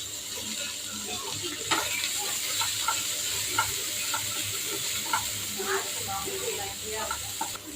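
Chopped onions and curry leaves frying in a pan for a Tamil-style chicken curry, giving a steady soft sizzle and hiss with occasional stirring clicks and scrapes.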